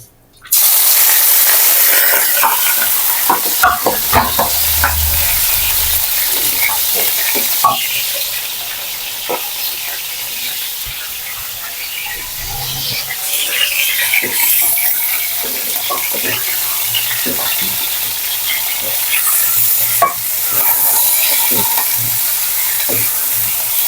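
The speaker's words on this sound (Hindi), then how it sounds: "बोनलेस चिकन को हम तकरीबन 5 से 7 मिनट के लिए अच्छे से भूनेंगे ऑयल में" Boneless chicken fries in hot oil, a loud, steady sizzle and hiss that keeps going, with scattered crackles and stirring scrapes throughout.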